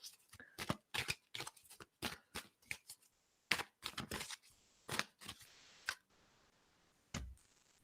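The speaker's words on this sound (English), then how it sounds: "I'll pull from mine first, and then I'm going to pull from the Goddess deck of cards here." Rapid riffling and snapping of a tarot-style deck of cards being shuffled and drawn, a dense run of crisp papery bursts up close, then a pause and one last flick.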